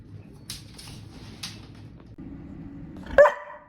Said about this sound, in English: She just randomly barking here now.